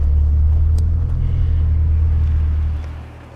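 A turbocharged Subaru STI with about 400 wheel horsepower accelerating out of a corner, heard as a loud, steady, deep engine rumble that holds strong and then eases off near the end.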